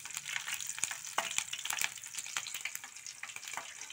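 Green chilies and cumin seeds frying in oil in a pan for a potato curry: a soft, crackling sizzle with quick pops and spits, fairly quiet and close, with no talk.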